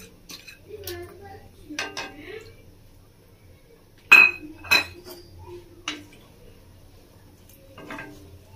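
Spoon clinking and scraping against a cooking pot while stirring 150 grams of washed masoor dal, a few sharp knocks spread out over soft background voices.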